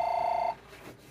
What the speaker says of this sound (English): Oh, hold on a second. That is my phone.